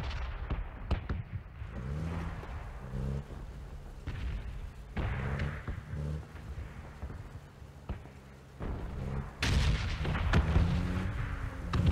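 Missile strikes in PUBG land as a series of loud booming explosions at irregular intervals, each a heavy rumbling blast, with a denser cluster of impacts near the end.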